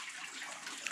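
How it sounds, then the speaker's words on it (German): Water running steadily into a container on a small farm, a continuous close hiss and splash with no voices. "Jetzt fülle ich da erst einmal Wasser auf."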